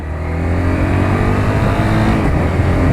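A car engine revs hard and continuously while the driver shifts up through the gears without the clutch, a loud, close, sustained drone for the whole few seconds.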